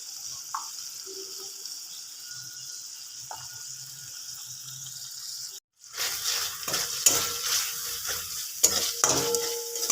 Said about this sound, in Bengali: টমেটো মশলা সব কিছু দিয়ে দিয়েছি, আমি কষে নিচ্ছি।